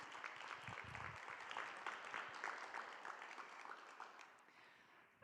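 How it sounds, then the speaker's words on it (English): An audience applauds steadily for several seconds at a remembrance event, with dense, moderately distant clapping that thins and fades out near the end. "You guys give her a big round of applause."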